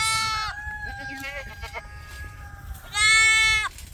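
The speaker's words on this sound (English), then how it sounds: "in a separate pen, we have two other goats." Mini goats bleat loudly nearby in a pen, two long wavering calls with a stretch of quieter bleating between them.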